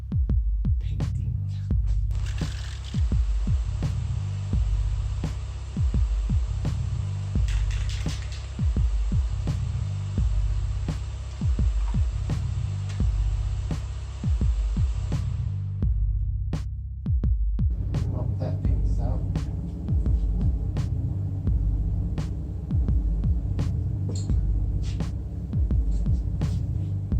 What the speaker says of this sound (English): So let me turn on the vacuum.